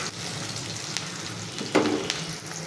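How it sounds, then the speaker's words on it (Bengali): Egg frying in a pan, with a steady soft sizzle and a few brief stirring scrapes, one louder scrape near the end, no talking. "ডিম দিয়ে দিয়েছি একটু নাড়াচাড়া করে নেব"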